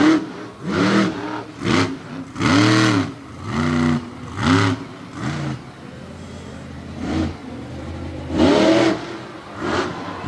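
A monster truck engine at a monster truck show in Jennerstown, Pennsylvania revs repeatedly in surging bursts, rising and falling in pitch, loud and close, with brief lulls between the pulls.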